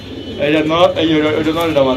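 Pigeons cooing close by in loud, throaty, warbling calls that repeat continuously and overlap one another, with a voice speaking among them.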